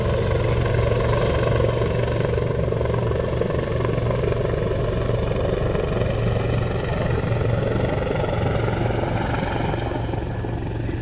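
A Lynx helicopter drones steadily and loudly, its rotor thump and engine whine holding constant throughout as if hovering or flying close by.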